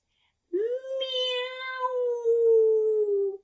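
A person's voice imitates a cat with one long, loud, drawn-out meow that rises sharply and then holds steady for about three seconds, close and alone.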